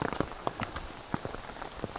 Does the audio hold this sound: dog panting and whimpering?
no